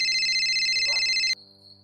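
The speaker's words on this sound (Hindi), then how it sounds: "तभी उन्हें वेदा का फोन आया।" A phone ringtone rings loudly and close, a bright sustained electronic tone with a pulsing melodic pattern that stops abruptly after about a second and a quarter, leaving a faint lingering tone.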